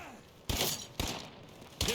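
Three sharp, loud gunshots at a feral zombie in the State of Decay 2 video game, spaced unevenly over two seconds, each cracking hard against a quiet background.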